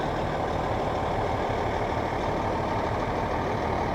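A truck rolling along in the Mooers parade, its engine a steady, dense low rumble heard up close and unbroken for the whole stretch.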